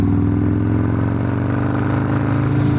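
Harley-Davidson Softail Slim custom motorcycle with a Milwaukee 8 engine, loud close-up throbbing rumble with a steady pulsing beat and some mechanical clatter, no voices.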